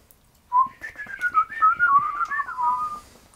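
A lone person whistles a wandering little tune while walking, in a tabletop role-playing game. The whistling is clear, close and melodic, with quick shifting notes for about three seconds against near silence.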